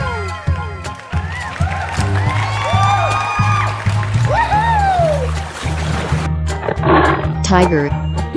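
A tiger roars loudly over a steady, thumping music track, its growling calls rising and falling several times through the stretch.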